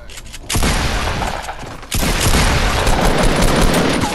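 Loud, dense bursts of rapid automatic gunfire erupt in a Fortnite match, one volley and then a second, heavier stream that keeps going to the end, close and overwhelming.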